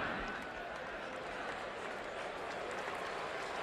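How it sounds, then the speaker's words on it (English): Football fans at a Texas versus Kansas game in Austin applaud from the stands, a broad, distant wash of clapping and crowd noise holding steady throughout, with faint commentary voices underneath. "And getting a round of applause for throwing an incompletion."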